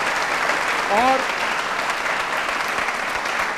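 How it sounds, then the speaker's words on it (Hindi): Steady, dense applause from an audience at a college election quiz show fills the room continuously, loud and close, with a brief voice rising over it partway through. "उसके लिए एक बार तालियां आप स्वयं ही अपने लिए बजा दीजिए"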